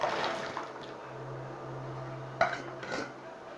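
Onions dropped into a pot of boiling water with bay leaves, giving a faint clatter of kitchenware and a soft splash over low bubbling and a steady background hum.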